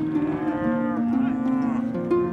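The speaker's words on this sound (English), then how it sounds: "As the cattle approach Chalky Butte, a group of ATV riders come riding up the trail" Cattle on a trail near Chalky Butte during spring turnout, with several overlapping loud, close moos sustained throughout, no talk.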